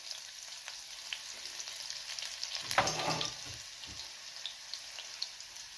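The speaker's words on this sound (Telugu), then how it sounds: "ఇది కొంచెం వేయించుకోవాలి." Mustard seeds, garlic and green chilies fry in hot oil with a continuous soft sizzle, broken by a louder burst of crackling and scattered light pops, quiet and close with no talking.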